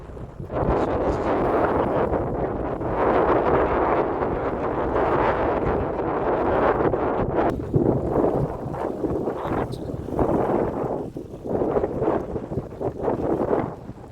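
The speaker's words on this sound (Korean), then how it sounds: "꽤 바람이 좀 있네 시원한 바람 맞으러 왔으니까" Steady wind gusts roar across the microphone at a seaside harbor in Danghangpo, Goseong, a loud, continuous rushing blow that swells and dips over the whole stretch with no talking.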